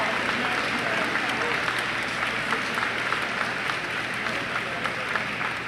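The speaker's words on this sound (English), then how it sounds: "Please give all of our award winners a round of applause." An audience at an academic awards assembly applauds award winners with sustained, dense clapping throughout, with a faint low hum underneath.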